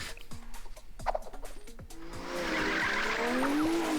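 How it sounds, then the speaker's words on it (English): A truck skids its tires in the Blue Archive video game, a loud rising screech that swells and holds after a burst of rapid game effects. "Whoa, a truck!"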